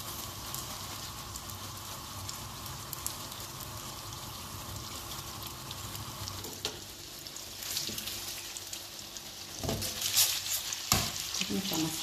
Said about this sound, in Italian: Vedete che aglio e peperoncino, nonostante l'olio spento, stanno ancora sfrigolando.